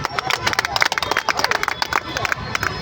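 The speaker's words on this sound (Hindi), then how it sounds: "एक बार ताली के द्वारा स्वागत करिए।" Audience at a Bihar drivers' union gathering in Hajipur claps loudly to welcome a speaker, a dense burst of many hands applauding close by with crowd chatter mixed in.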